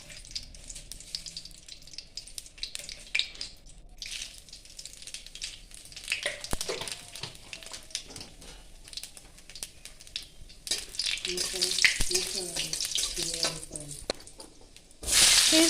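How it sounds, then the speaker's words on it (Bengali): Dried red chilli, bay leaf and black cumin tempering in hot oil in a wok, a steady soft sizzle with stirring scrapes that grows louder toward the end, no talk over it. "কড়াইয়ে তেল দিয়ে তেলটা কিছুটা গরম হয়ে গেলে শুকনো লঙ্কা, তেজপাতা আর কালো জিরে ফোড়ন দিয়ে একটু নাড়াচাড়া করে নিতে হবে।"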